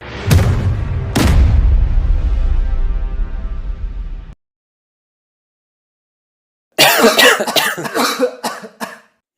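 Loud, close coughing from a person with a cold: two harsh bursts followed by a lingering ringing tail, a pause of silence, then a quick string of several more coughs.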